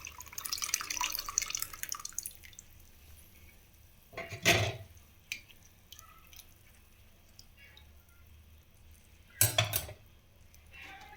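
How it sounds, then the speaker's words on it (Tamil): Lemon juice is poured through a strainer into a dish, giving two short, close splashy pours with faint drips and quiet kitchen clinks between them. "ஒரு வடிகட்டி வச்சுட்டு நம்ம லெமன் ஜூஸில் சேர்த்துக்கலாம்"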